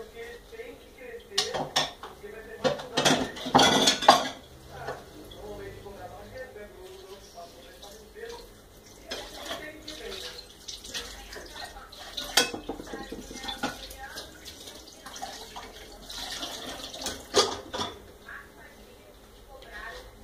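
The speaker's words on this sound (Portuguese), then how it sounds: "eu vou lavar a louça do almoço" Lunch dishes are washed at a kitchen sink, with plates, pots and cutlery clattering and clinking in irregular bursts over running water. The sounds are close, and some stretches are louder than others.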